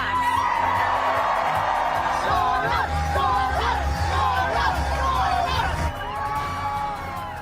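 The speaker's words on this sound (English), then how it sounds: "They always say we're loud, but man, with this vote, you guys just scream from the rooftops" A large crowd at an election night event cheers, whoops and screams loudly and continuously, with excited yells rising over the roar throughout.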